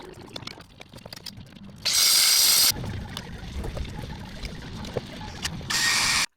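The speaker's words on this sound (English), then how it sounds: "So we're running a ratchet with a very long extension from the top" Rapid clicking ratchet bursts on a long extension, fitting headers and exhaust on a 1997-2004 Nissan Frontier V6, two short loud runs separated by quieter clunks and mechanical rattling nearby.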